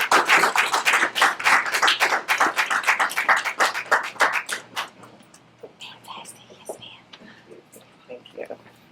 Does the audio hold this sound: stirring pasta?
no